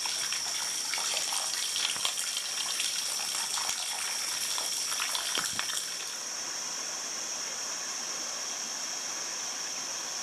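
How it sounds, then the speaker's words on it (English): A small waterfall on a forest trail in the Red River Gorge pours in a steady, close rushing gush. It runs continuously, with a few faint knocks in the first half and no talking. "Little waterfall."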